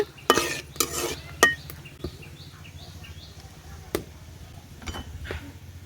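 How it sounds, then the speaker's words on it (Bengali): Ginger garlic paste fries in mustard oil with dried chillies, a faint sizzle beneath several sharp clinks and scrapes of a utensil against the pan. The clinks come in a few separate bursts, close up. "আদা রসুনটাকে আমি একটু হালকা ভেজে নিছি"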